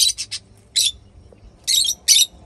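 Parrots give bursts of high, bright chirps and squawks in quick short clusters, with brief quiet gaps between them, fairly close.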